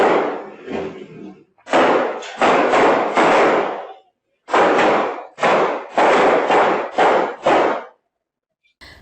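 Loud, sharp bangs ring out in quick clusters with brief pauses between, echoing like a nearby exchange of gunshots between police and drug couriers near a plantation.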